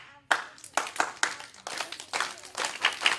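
Sharp bursts of hand clapping come in short rhythmic phrases, with a group of children and adults at a summer reading event clapping back a pattern, close and lively, the bursts separated by brief pauses.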